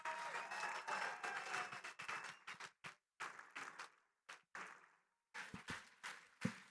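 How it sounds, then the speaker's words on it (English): A gala audience at a YMCA fundraiser gives a round of applause, a crowd of clapping hands heard at a distance that breaks into choppy bursts and gaps as the sound cuts in and out. "let's give Tom a big round of applause."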